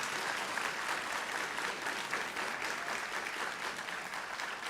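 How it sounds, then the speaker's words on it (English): A large audience applauds graduates at a community and technical college spring commencement ceremony: dense, steady clapping heard from a distance, fairly quiet and even throughout with no voices over it. "So now I want to hear all of you all clap louder for them."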